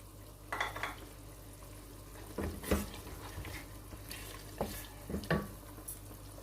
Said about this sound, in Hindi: अब हम इसमें जिंजर गार्लिक पेस्ट डाल रहे हैं